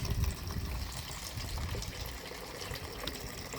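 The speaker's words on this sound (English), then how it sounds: "Now let's go ahead and turn the water on." Tap water runs steadily into a small model river tinted with food coloring, a continuous close trickling and splashing flow that holds even and unbroken throughout.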